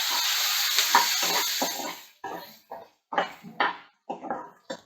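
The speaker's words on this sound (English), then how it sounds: "Let's fry the shallots." Shallots and garlic fry in a pan for a spicy eggplant curry, a steady sizzle at first, then broken by repeated clinks and scrapes of a spoon stirring against the pan.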